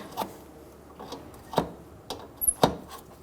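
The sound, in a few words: 11mm wrench loosening brake line nut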